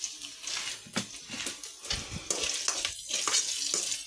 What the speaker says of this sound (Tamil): அது நல்லா கொஞ்சம் வறுபடணும்னு சொல்லிட்டு அதை கொஞ்சம் லைட்டாக வறுப்படுத்திட்டுருக்கேன்.